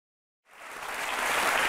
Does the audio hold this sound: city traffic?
no